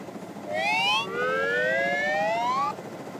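Cartoon police car sirens wail in overlapping rising tones, one joining another for a couple of seconds, loud and near, then cutting off abruptly against a low background murmur.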